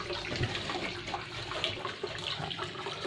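Water drains steadily from a turtle pond through a stop valve, a continuous near rushing and gurgling flow with no pauses and no voices.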